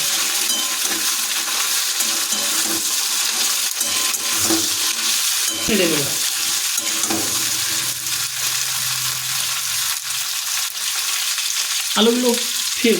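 Cauliflower pieces frying in oil in a pan, a steady broadband sizzle running throughout with occasional stirring clatter, and a brief voice speaking near the end.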